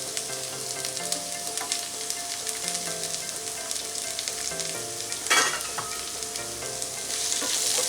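Potatoes sauté in a pan for potato rice, a close, steady sizzle with stirring scrapes and one sharper clatter. A soft melodic tune plays underneath.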